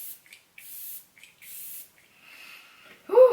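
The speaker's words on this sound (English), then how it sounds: "You want to really hold down the spray when you pump this." Pump-action facial mist sprayed in several short bursts, each a soft hiss, with a longer louder spray near the end.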